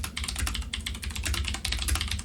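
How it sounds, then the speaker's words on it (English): A very loud computer keyboard clatters with fast, continuous typing, each keystroke sharp and close. "And my very loud keyboard."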